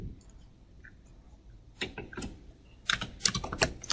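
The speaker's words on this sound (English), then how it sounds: "So I'm typing ping" Keys clacking on a computer keyboard as a ping command is typed, a few sparse taps followed by a quicker burst of close, crisp keystrokes toward the end, with no talking.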